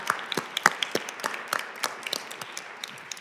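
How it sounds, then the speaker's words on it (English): Sparse, uneven clapping from a small audience at a congressional briefing, scattered claps at irregular intervals, moderately close and thinning toward the end. "Let's give a round of applause there."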